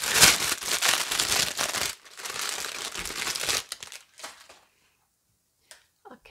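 Pink paper wrapping crinkles and rustles as it is pulled off a No7 makeup gift set, close and busy for a few seconds before tapering into quiet with a few soft rustles.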